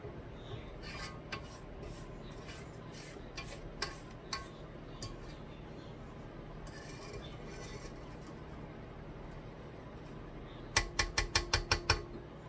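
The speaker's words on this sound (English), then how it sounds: "So I'm going to scrape down the sides." A spatula scraping down the sides of a mixing bowl of creamy oatmeal raisin cookie dough, heard as scattered soft scrapes and taps, ending in a quick series of sharp knocks against the bowl, close and fairly quiet.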